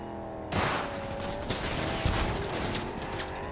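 Video game gunfire in Cyberpunk 2077 from a passenger leaning out a car window, a sudden dense burst of rapid shots followed by continuous loud firing over engine noise.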